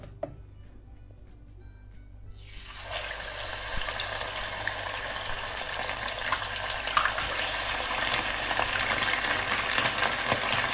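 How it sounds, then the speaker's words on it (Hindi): Fish frying in hot oil in a pan, a steady loud sizzle that bursts in suddenly and keeps going without a break, with no talking over it. "मैं फ़िश फ्राई कर लेती हूँ"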